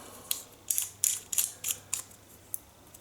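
Metal parts of a lightweight aluminium alloy Russian military safety razor being screwed together, a series of soft, close clicking ratchet-like ticks in a quiet room.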